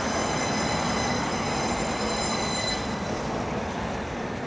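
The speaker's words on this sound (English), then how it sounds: "You see a train going over the top of the railway there into the central station" Train crossing a railway bridge into a city's central station, heard close and loud as a continuous rolling rumble with high metallic wheel squeal, unbroken for the few seconds.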